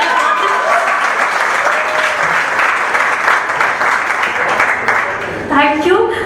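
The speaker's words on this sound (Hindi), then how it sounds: "तो इतनी ताली तो मेरी बर्थडे में भी कभी नहीं बजा है" An audience at a lecture applauds with sustained, dense clapping that carries on steadily, and a voice speaks over it toward the end.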